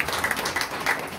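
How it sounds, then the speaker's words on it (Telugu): A church congregation claps loudly during a worship service, giving a dense, steady patter of many hands that carries on for about a second without a break. "గట్టిగా చప్పట్లు కొట్టి"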